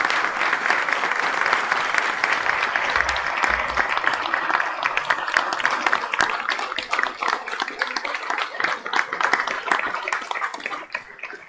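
An audience applauds a jazz trio after a performance, a dense, lively stretch of clapping with sharp individual hand strikes standing out, holding steady and then gradually thinning toward the end.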